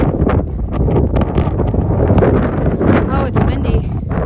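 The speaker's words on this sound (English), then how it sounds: "Oh, it's windy." Wind gusts buffet the microphone outdoors beside an icy backyard pool during a Texas snowstorm, a steady low rumble running throughout with voices talking over it.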